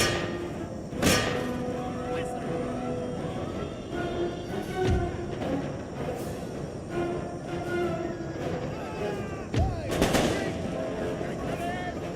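Cannon artillery in Total War Empire booms in a few spaced, heavy blasts over a continuous rumble of musket fire and battle noise, with some speech mixed in.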